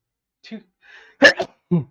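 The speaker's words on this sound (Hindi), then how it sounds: "मैं पहले छींक ले ली" A single sharp sneeze from a lecturer during a Rajasthan geography class, preceded by a short intake of breath and followed by one brief spoken word.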